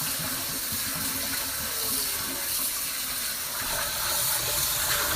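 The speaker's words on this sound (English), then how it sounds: "I like to give it a second rinse just to make sure." Cold tap water runs steadily into a sink for a second rinse of lettuce, a continuous even hiss and splash close by with no talk.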